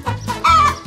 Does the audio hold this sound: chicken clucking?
yes